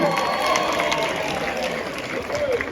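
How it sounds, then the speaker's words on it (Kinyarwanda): Wedding guests applauding for Fernando, a dense steady wash of clapping and crowd noise that holds for the whole stretch, with voices mixed in. "amashyi menshi kuri Fernando ndasabye mazeyi"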